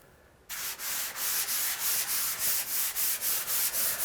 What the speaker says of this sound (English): I'm gonna take a 220 grit sanding sponge, and I'm just gonna do a light sand